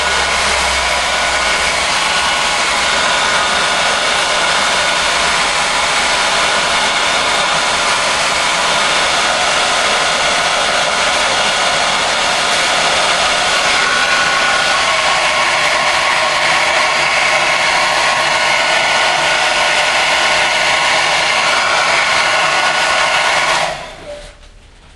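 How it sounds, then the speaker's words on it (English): A hair dryer blows warm air across a freshly sprayed Revell 1/72 Lancaster model kit, a loud, steady broadband whoosh with a low motor hum that runs unbroken for most of the stretch before cutting off near the end. "We just grab our hair dryer,"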